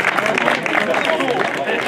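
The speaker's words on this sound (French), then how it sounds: "On les applaudit tous les trois" Audience applause for the winners at a 2024 trail race awards ceremony, a steady, dense patter of clapping from a crowd with voices murmuring underneath throughout.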